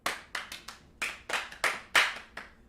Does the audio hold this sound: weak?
yes